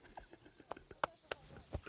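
Horse hooves clip-clop in a few sharp, irregular knocks at a pig-hunting outing, faint and a little distant, with a voice murmuring nearby.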